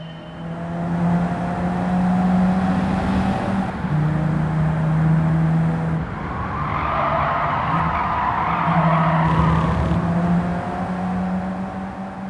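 A 1988 Peugeot 205 GTI driven hard in Gran Turismo 7, its steady engine drone underneath repeated tire squeals and skidding through corners, loud and close with no voices.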